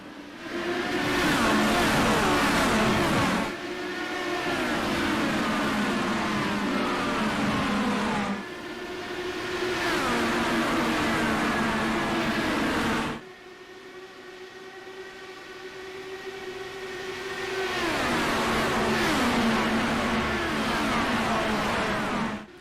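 Stock race cars roaring around Texas Motor Speedway in an All-Star race, engines swelling and fading in long waves as packs pass, loud and continuous with pitch shifting as cars go by.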